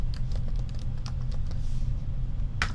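Quick, light clicks of someone typing on a computer keyboard, an uneven patter of keystrokes over a steady low hum, with one louder clack near the end.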